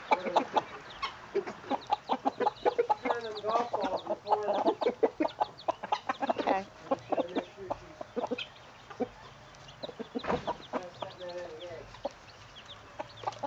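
A broody Australorp hen clucks again and again in soft rhythmic bursts close by, with her chicks near her, while people talk at moments in the background.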